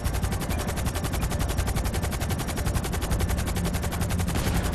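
An Annihilator helicopter strafes the player's car in GTA V Online with sustained rapid machine-gun fire, a continuous fast even rattle that stays loud and close for several seconds, with no talk over it.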